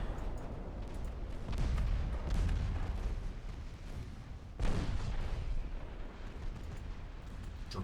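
Naval guns in the Ultimate Admiral Dreadnoughts game fire in heavy, rumbling booms that roll one into the next. A sharper blast lands midway, and all of it sits over a continuous low battle din.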